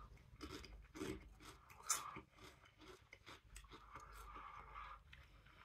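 Unseasoned Spudos potato crisps crunched and chewed close up, a few sharp bites followed by steady crackly chewing, quiet, with no talking.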